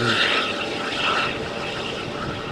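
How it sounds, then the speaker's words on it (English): A Vueling or Wizz Air jet departs Malaga Airport on Runway 13 on a stormy morning, giving a steady, loud broadband engine roar that holds evenly throughout with no voices. "the departure of Vueling, Wizz Air flight to London Gatwick"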